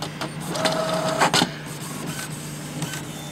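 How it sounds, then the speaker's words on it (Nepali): A Brother J100 inkjet printer whirs and clicks as its print head shuttles back and forth, with short mechanical bursts and a steady hum. "रिसिभिङ डाटा प्रिन्टिङ सुरु गरिदिसकेको छ प्रिन्टरले"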